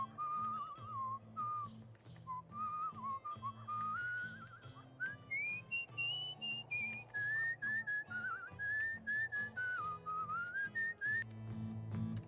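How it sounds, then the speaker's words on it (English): A person whistles a wandering melody over a steady low musical accompaniment from the game Where the Water Tastes Like Wine, the tune rising and falling continuously for about twelve seconds. "I'll just do a little bit of whistling to get a little quicker."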